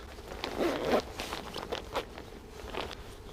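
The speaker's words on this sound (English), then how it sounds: "tighten up this, and I'll lubricate it, the zipper, because if you don't, it gets pretty stuck" A drysuit zipper being pulled and worked with lubricant, giving a series of short, close raspy zips and scrapes in uneven bursts.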